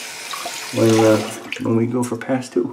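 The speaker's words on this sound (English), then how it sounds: "I'll just add a little bit of cold water" Cold water running from a bathroom tap during a wet shave, a steady rushing hiss throughout, with someone talking over it.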